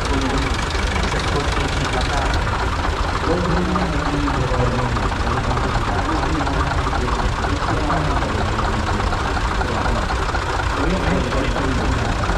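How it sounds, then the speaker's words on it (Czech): An Oliver 70 tractor engine idles with a steady, rough rumble at close range while someone talks over it throughout. "Teď nám vyjíždí traktor Oliver 70, nádherně"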